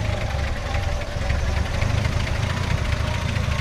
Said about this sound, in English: We'll go ahead and fire it up right here, and so you can hear it run.